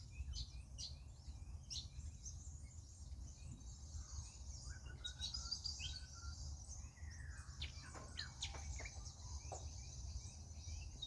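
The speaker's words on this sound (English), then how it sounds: "There is so many little birds out." Many small birds chirp and twitter faintly outdoors on a morning, with scattered high calls over a constant low hum and an insect-like drone, distant and quiet throughout.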